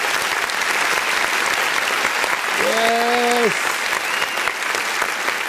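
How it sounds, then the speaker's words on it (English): Steady, broadband applause runs throughout for a contest winner on a live show, with a voice speaking briefly over it midway. "Let's give her some applause."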